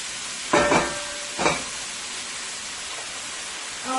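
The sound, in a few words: ground beef frying in a pan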